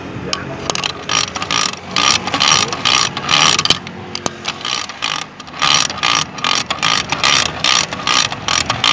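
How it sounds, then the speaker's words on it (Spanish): A Bajaj two-stroke motorcycle engine being reassembled has its gear selector worked through the gears, giving a rapid series of close, sharp ratcheting clicks and metallic clacks in short repeated bursts, with no talking. "El pino selector y vamos a poner todos los cambios"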